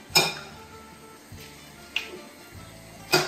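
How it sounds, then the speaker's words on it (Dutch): Eggs being cracked and separated for pasta carbonara in a home kitchen: a few sharp clinks of shell against a bowl rim, spaced apart, with light handling sounds between them and no talking. "Ga ik dus 5 eieren splitsen."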